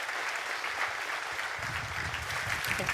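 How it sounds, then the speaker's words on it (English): Conference audience applauding steadily for a few seconds, a dense even patter of many hands clapping in a hall, with a faint murmur of voices underneath. "Round of applause"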